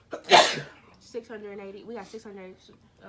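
One sharp, loud sneeze bursts out close by, followed right after by people talking.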